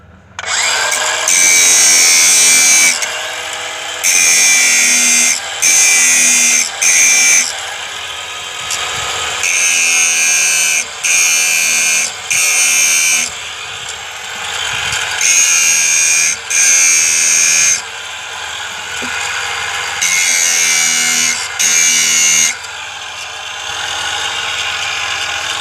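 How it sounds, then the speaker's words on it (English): A grinder sharpens a chainsaw chain in loud, repeated bursts of high whining grind, each lasting a second or two, separated by short quieter gaps as the tool steps from tooth to tooth. "You notice I flip the grinder around."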